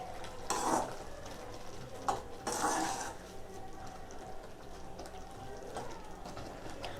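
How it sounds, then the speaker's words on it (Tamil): A spoon stirring cooked poha mixed with boiled moong dal in a metal pot for sweet pongal, several scraping strokes against the pot, fairly soft and close with pauses between. "கலந்து விட்டுருங்க."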